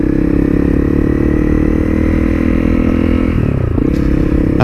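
A Honda CRF 250L motorcycle rides along a rural road in the Trossachs, its engine droning loudly and continuously up close with a slight shift in pitch near the end.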